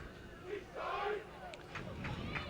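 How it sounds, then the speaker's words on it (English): A crowd at a Kansas 8-man Division 1 all-star football game gives a low, steady hum of chatter and distant cheering, with a commentator speaking over it. "a good crowd on hand for football today"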